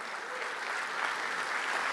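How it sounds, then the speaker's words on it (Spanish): Steady, dense applause from a large crowd, a continuous wash of clapping with no voices standing out, holding at an even level throughout. "Dele un fuerte aplauso al Señor"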